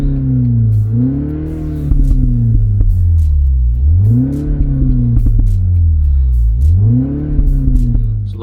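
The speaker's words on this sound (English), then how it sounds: "the pops that you hear right now are basically from the speaker" A Mini Countryman JCW All4 with a 300bhp engine plays artificial exhaust pops through a speaker: loud, close engine drone swelling and falling in repeated rev cycles, dotted with faint crackling pops.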